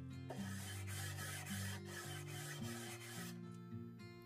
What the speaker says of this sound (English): Sanding down the imprint didn't go quite as planned.